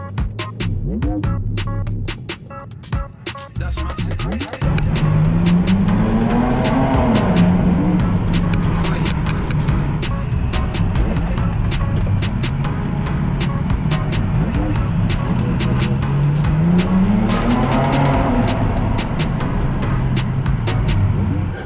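BMW E92 325i M Sport heard from on board while driving, steady engine drone rising and falling through the gears with road rumble, alone and fairly loud after a brief quieter start.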